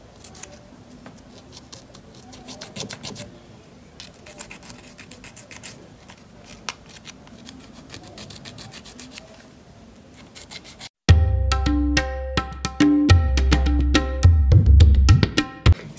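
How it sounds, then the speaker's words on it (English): Fingernails being filed to strip a shiny gel top coat, starting as faint quick rasping strokes, then turning into loud, dense, harsh scraping that fills the last few seconds up close. "I'm just gonna be going on all of them and just like filing them off, making sure that shiny"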